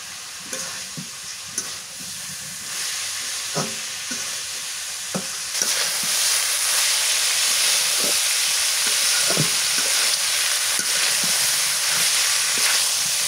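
Bitter gourd (karela) frying in plenty of oil, a steady close sizzle with occasional stirring scrapes, the hiss growing louder and denser partway through.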